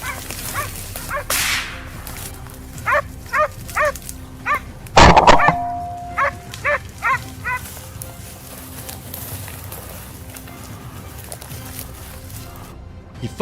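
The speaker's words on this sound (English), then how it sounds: "the hound's frantic barking echoed from the reeds right in front of John" A hound barks repeatedly in short, evenly spaced bursts from reeds at middle distance during a wild boar hunt, interrupted once by a sharp cracking snap.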